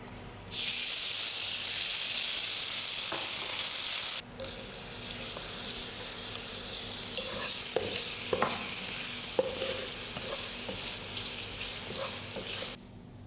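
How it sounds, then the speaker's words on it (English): Bananas caramelize in a pan, with a bright hissing sizzle that softens partway through, then intermittent spoon taps and scrapes over a quieter bubbling sizzle. "We're going to caramelize some banana before we cool that mixture down"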